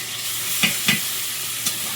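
Prawns frying in hot oil with nigella seeds and onion, a steady close sizzle with a few brief spatters and stirring clicks, no talking.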